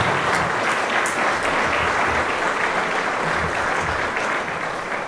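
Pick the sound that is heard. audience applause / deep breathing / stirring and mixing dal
audience applause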